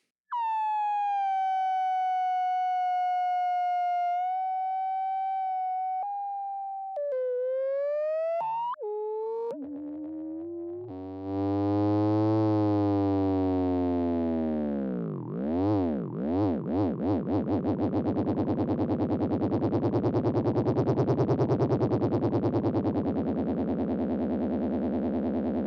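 A no-input mixing board fed through a modulation filtering pedal gives a long electronic feedback tone, at first a steady whistling pitch that wobbles and dives, then a low, sweeping, siren-like drone that pulses and blurs into a dense buzzing wash.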